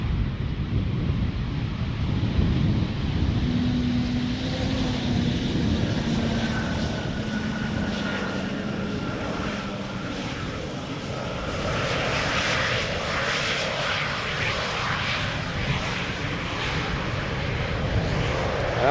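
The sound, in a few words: Embraer airliner landing at Schiphol Airport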